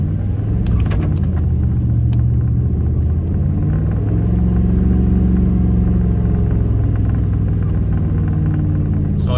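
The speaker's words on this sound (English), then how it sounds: "my truck is like having a hard time getting traction because of the sand" A truck engine drones and revs steadily in close, loud rumbling as the vehicle struggles for traction in loose sand in a desert wash, continuous throughout with no talk over it.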